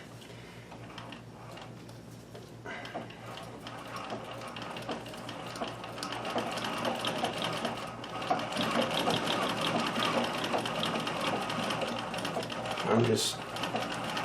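A Riccar 570 stretch stitch sewing machine with cams runs steadily as it stitches fabric, a continuous close mechanical whir and rapid ticking that grows a little louder midway, with brief speech over it.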